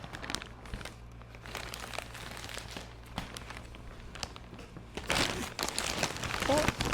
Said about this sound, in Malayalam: So let's unbox this.